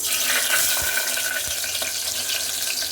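Onions hit hot oil in a pan for restaurant-style tomato rice, producing a loud, dense, continuous sizzle with a few stirring knocks, close up and free of talk.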